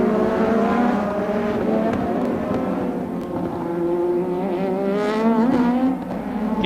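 Formula 1 race cars at the 1987 Japanese Grand Prix, including Honda-powered Lotus and Williams machines, roar past in a loud, steady high-revving drone whose pitch climbs and dips with gear changes, with no speech.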